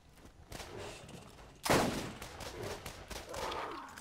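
A single sharp sniper rifle shot in the video game Borderlands, loud and near, cracking out of quieter game ambience and decaying with a short echo.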